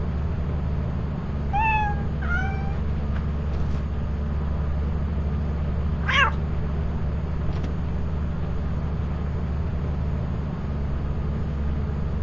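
Several cat meows from the video game Lethal Company, a pair of rising-falling calls close together followed by a single louder meow a few seconds later, over a steady low droning hum.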